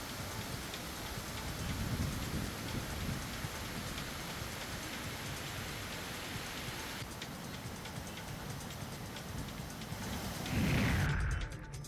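Continuous heavy rain falling in Washim district, a dense, steady hiss of drops on surfaces with a brief louder surge near the end, no talking.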